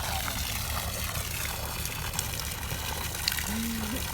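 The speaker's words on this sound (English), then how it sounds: "We're getting some of the hot water out first." Hot water gushes and splashes steadily from a hose on a yacht, a continuous wet rushing with faint background noise and no clear talk.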